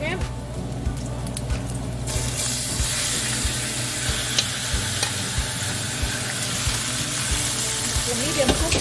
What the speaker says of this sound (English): Guys, let's put shrimp down here. Go ahead, cook shrimp.